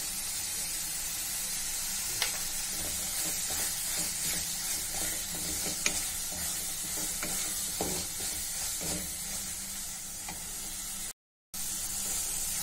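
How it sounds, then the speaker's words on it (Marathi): Steady sizzling of spices frying in oil, a constant hiss with occasional scraping clicks of stirring, close and fairly loud, no voices. "मसाला तेलात चांगला परतला आहे"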